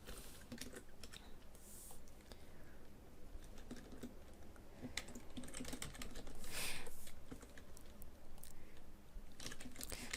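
Computer keyboard being typed on while writing JavaScript code, a steady patter of quick, close key clicks running throughout with a few louder taps, no talking.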